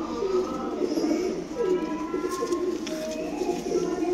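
A group of Malwai pigeons coo close by in soft, rolling, repeated calls, with faint chirps above and a little talking in the background.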